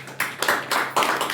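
A short burst of audience clapping at a business-plan presentation, a few uneven bursts of hands across about a second, moderately loud with no talk over it.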